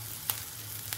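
Onions being lightly sautéed in a pan for a spring roll filling give a soft, faint, steady sizzle, broken by two tiny clicks in a brief moment with no voices.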